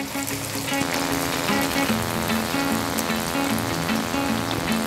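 Onion frying in hot oil with ginger and garlic for a chicken and vegetable bun filling, a dense continuous crackling sizzle heard close and loud throughout.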